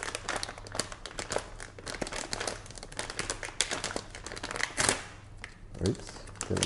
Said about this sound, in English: open up the tape